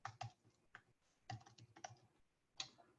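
Keys clatter on a computer keyboard as an email is typed, a quiet close-up run of irregular clicks in short bursts with brief pauses between them.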